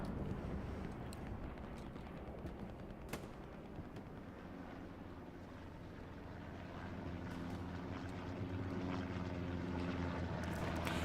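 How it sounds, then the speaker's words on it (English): A reconnaissance plane lifts off in a World War II strategy game, its propeller engine droning steadily over a busy battlefield ambience and swelling slightly louder toward the end. "Recon plane going up."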